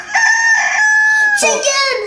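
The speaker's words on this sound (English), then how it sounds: "Yeah, this is a rooster." A toy plays a rooster crowing sound, one loud, close cock-a-doodle-doo with a bright electronic tone, lasting about two seconds.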